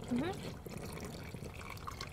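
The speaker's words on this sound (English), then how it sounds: "We need more water. So we get some water." Water is poured into a pot for cooking pasta, a quiet, short trickle with a brief voice near the start.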